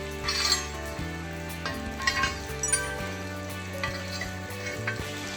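Pork belly sizzles and fries on a thick stone grill plate over a wood-charcoal drum grill, a steady close crackle with occasional stirring and light metallic clinks throughout.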